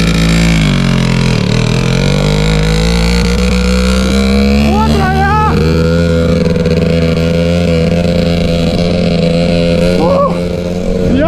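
A loud motorcycle engine drones steadily in first gear, with a couple of brief revs rising and falling over the constant rumble.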